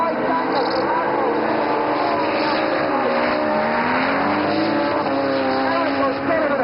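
Drift cars at a European drifting series event in Sturup, Sweden crest a hill with engines revving hard and tires squealing in long continuous slides, loud and close, with commentary running underneath.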